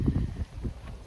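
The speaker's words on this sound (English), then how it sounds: "It's a bit windy this morning." Wind buffets the microphone outdoors on a morning camping walk, a loud low rumbling gust that swells and dips continuously with no voices.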